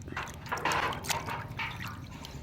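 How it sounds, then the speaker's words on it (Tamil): Splashing and sloshing water with drips and trickles as country chicken is swished around and rinsed, close by, with no talking. "கோழி தண்ணியில் மிதக்குது டான்ஸ் ஆடுது அப்படியே அலசி எடுத்துக்கலாம்"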